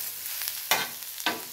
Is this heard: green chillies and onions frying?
yes